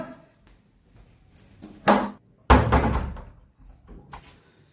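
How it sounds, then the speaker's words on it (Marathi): A door is handled in a comedic home scene: two sharp, loud knocks or thuds, then a longer rattling bang as it is pushed open, with quieter shuffling between. "दार उघडाय ना"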